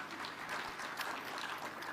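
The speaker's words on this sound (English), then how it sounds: "Please clap for Safaricom Foundation." An audience at the Safaricom Foundation's 20th anniversary event claps in a steady, continuous wash of applause that sounds distant and fairly faint.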